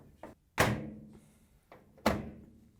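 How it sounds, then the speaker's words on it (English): Samsung washer lid latch snapping into place, a small tap followed by two solid plastic thunks with short ringing decay, close and clear with no talking. "you can just snap it back down so the retainer clips lock it in"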